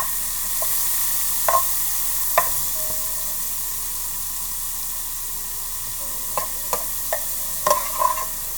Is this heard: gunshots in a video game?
no